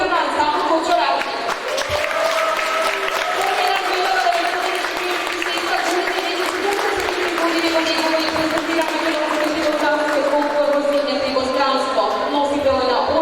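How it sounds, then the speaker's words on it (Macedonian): An audience applauds members of a folk dance ensemble at an international folklore festival in Veles: a sustained wash of clapping runs under voices and tonal sound, steady and moderately loud for the whole stretch. "Дами и господа, да ги поздравиме со еден аплауз членовите на ансамбл Кочораци"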